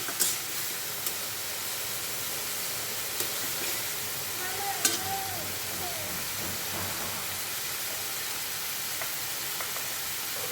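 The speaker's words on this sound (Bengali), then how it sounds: "এখান দিয়ে আরেকটা তরকারি বসাই দিতে আছি।" Cabbage curry set cooking in a pan on a home stove, a steady broadband sizzle and hiss of frying that runs unbroken throughout, with a few faint clinks and stirring knocks and a brief voice in the background.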